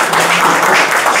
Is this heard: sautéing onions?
no